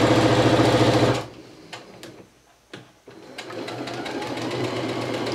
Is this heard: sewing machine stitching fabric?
yes